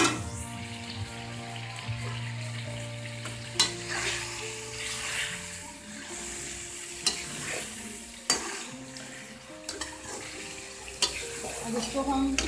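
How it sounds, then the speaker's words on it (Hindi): Kachnar keema, an orchid tree bud and minced meat gravy, is stirred in a pan after garam masala goes in. A soft sizzle runs under scattered sharp spoon scrapes and clinks. "अब हम इसमें थोड़ा सा गरम मसाला डाल देंगे। ये ऑप्शनल होता है, आप चाहें तो इसमें ना डालें। मिक्स कर देंगे इसको अच्छे तरीके से।"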